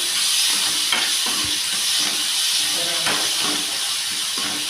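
Tomatoes and onions cooked with salt in a pan for a paneer gravy, a loud steady sizzle and hiss with repeated spoon-stirring scrapes throughout.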